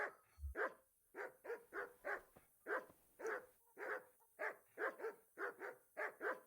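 Several dogs bark in quick bursts, a repeated run of sharp, fairly close barks with short gaps between them, in the medieval role-playing game Kingdom Come: Deliverance, with no talking over them.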